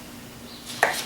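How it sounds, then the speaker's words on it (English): A kitchen knife slices through a rinsed, rolled lemon on a cutting board, giving one sharp, close chop near the end of an otherwise quiet moment. "Just cut them in half."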